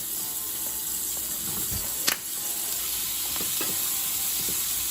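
Steady broadband sizzle of chopped onions frying in hot oil for chutney, with a brief clatter partway through and no voices.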